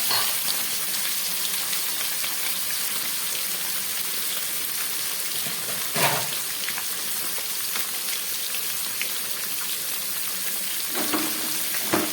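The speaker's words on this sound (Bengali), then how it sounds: "মাছ আর আলু আমি একসঙ্গেই ভাজা বসিয়ে দিলাম।" Rohu fish and potato pieces fry together in one pan, giving a steady broadband crackle like light rain that runs the whole time, with a brief louder spatter near the middle and no voices.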